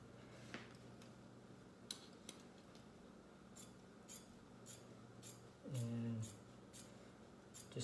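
Scissors cut out a piece of chalk-marked material, heard as faint, sparse snips and ticks in a quiet room, with a brief low rumble partway through.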